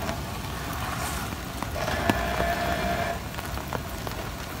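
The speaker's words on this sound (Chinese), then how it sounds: "你看这个雨一直在下呀。" Steady rain falls during an extreme off-road driving session, with a constant broadband patter filling the scene and a brief faint tonal hum near the middle.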